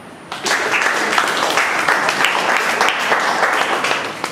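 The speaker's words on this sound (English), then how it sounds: "so round of applause" A club meeting audience breaks into applause after the word-of-the-day report, a soft, diffuse patter of many hands heard from a little distance, steady throughout.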